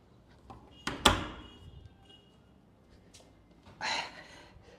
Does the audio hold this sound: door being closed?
yes